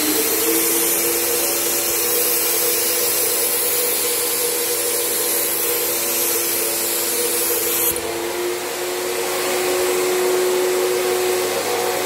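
Graco 9.5 Pro Contractor HVLP Edge 2 Plus sprayer running with paint loaded, a loud steady turbine whine and hiss that shifts slightly in tone partway through, continuous with no voices.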